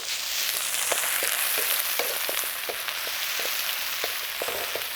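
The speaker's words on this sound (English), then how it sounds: "Always onion first. Onion takes longer to cook than garlic." Onion frying in a wok for Thai fried rice makes a loud, constant sizzle, broken by repeated sharp scrapes and taps of a steel wok scraper.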